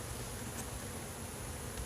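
Honey bees buzz in a dense, steady drone around an opened hive, a close and continuous hum without pauses or voices.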